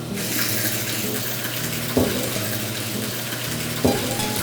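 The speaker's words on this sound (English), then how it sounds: "We're intentionally splashing as we're pumping it in to generate a little bit more oxygen into the mash" Whiskey mash splashing steadily as it is pumped into a fermenter at a Denver distillery, a continuous loud rush of falling liquid with two brief sharper splashes.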